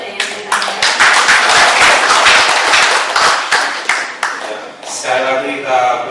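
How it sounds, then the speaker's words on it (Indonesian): A seminar audience claps in a dense, loud burst of applause that fades after a few seconds, then a voice begins speaking over the last of it. "Sekali lagi kita beri tepuk tangan"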